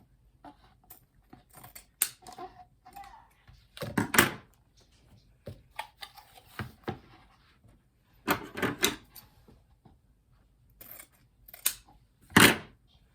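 Scissors snip through 12-inch strips of wreath material in a series of crisp, close cuts, with short bursts separated by pauses and handling noises.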